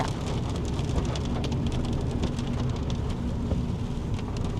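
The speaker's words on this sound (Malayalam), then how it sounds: "നല്ല മഴ." Dense, steady downpour hissing continuously, close and loud, with no voices.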